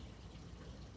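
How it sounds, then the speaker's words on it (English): Hot water runs from a tap in a steady, faint, low rush, continuous and alone. "So you get your hot water again."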